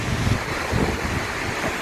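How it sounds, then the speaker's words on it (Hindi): Water pouring over a dam overflow spillway outdoors, a steady loud broadband rush that fills the clip without pause and with no voices. "झरने की आवाज़ कितनी बढ़िया आ रही है"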